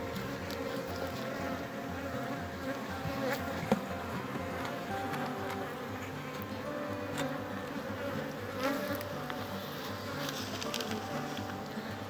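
A dense, steady drone of honeybees buzzing in a hive during requeening, continuous and close, with no talk over it.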